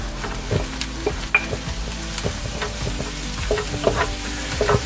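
Mushrooms sizzle steadily in a hot pan, with occasional clinks and scrapes of stirring breaking through the constant frying crackle.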